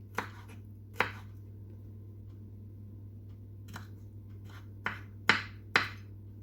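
Knife chopping raw mushrooms on a board for a quick cucumber salad: a handful of sharp, separate chops spaced irregularly, close and fairly loud over a steady low background hum, with no talking.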